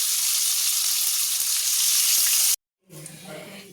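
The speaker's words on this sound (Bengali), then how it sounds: "এগুলো এবার ওই কড়াতে দিয়ে দেবো। তো এইভাবে সব কটা মাংসকে আমি ভেজে নেব।" Chicken pieces frying in oil in a kadai give a loud, dense sizzle for a few seconds, then cut off abruptly before a quieter sputtering and crackle resumes.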